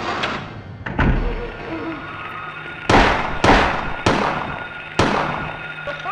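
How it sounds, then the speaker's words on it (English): Gunshots in the PS1 video game Silent Hill, several sharp, loud bangs spaced irregularly about a second apart, each with a short decaying tail over a low background hum. "Alright, someone's getting shot."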